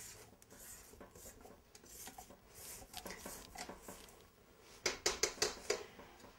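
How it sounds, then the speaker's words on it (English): Scraping down creamed butter in a mixing bowl with a spatula, soft repeated rubbing scrapes that end in a quick run of sharper rasping strokes, close and fairly quiet with no talking. "Our butter is creamed, so I'm going to scrape down"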